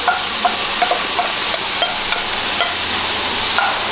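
Cumin seeds sizzle and crackle in hot oil for a crab curry, a steady frying hiss broken by small sharp pops and occasional stirring scrapes, close and fairly loud with no voices.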